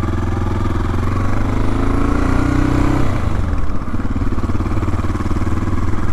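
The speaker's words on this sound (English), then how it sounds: "Harley." A Harley-Davidson bagger motorcycle passes close by, its deep engine rumble rising in pitch and then dropping away, heard over the steady drone of another motorcycle being ridden nearby.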